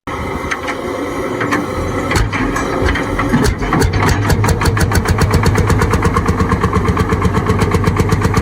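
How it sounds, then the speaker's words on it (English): A 1930s Lanz Bulldog D8516 N-model hot bulb tractor with a 10.3-liter single engine starts up, loud and close, settling from irregular turning into a fast, steady chugging beat that keeps on without voices. "D8516 N-Model Bulldog, a 1930s hot bulb tractor, with this step-by-step guide."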